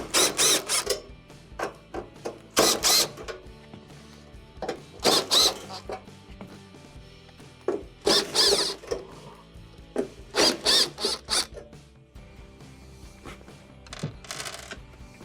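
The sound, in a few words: removing screws from Samsung stove console panel with screwdriver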